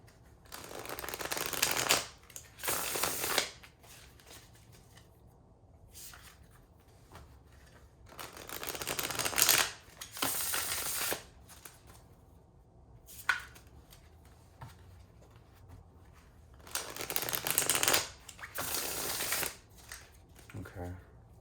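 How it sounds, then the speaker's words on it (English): Cards are riffled and shuffled in several bursts of crisp, fluttering noise, separated by pauses, close to the listener. "I'll just go ahead and start shuffling, clear the energy of the deck"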